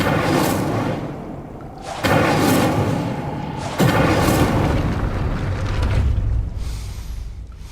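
An Incendio fire spell is cast in Hogwarts Legacy. Heavy booming bursts of flame land close and loud, with one strong blast near two seconds and another near four, over a constant rumbling roar.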